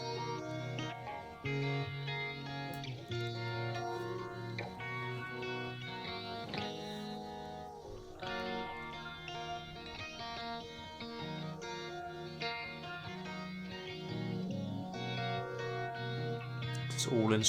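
Instrumental closing track from an album: dense, layered music with distorted, chorused and echoing tones, playing loud and steady throughout.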